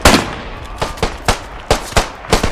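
Machine gun fire in the World War I shooter Beyond the Wire at the Battle of Arras: loud, close bursts of rapid shots in short, uneven volleys, with no talk over them.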